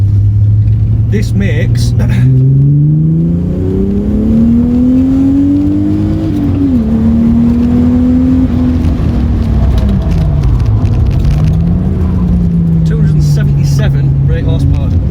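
Supercharged 2.8 VR6 engine in a Mk2 car revving hard on a mountain pass, a loud, close, rising and falling drone with gear changes, a voice talking over it at times.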